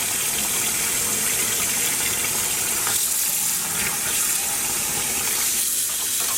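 Running water gushes continuously as dyed cotton yarn is rinsed beneath it, a close, steady splashing flow with slight shifts as the yarn is moved.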